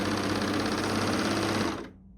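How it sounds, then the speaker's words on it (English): A serger overlocker stitches through old quilt fabric, a fast, steady mechanical whirring chatter at close range that winds down and stops near the end, with no talking. "I'm going to go ahead and serge this one too"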